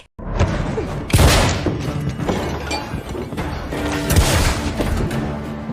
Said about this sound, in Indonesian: Henry mengambil pistol pemberian Christopher dan langsung menembak Asa hingga jatuh dari lantai 2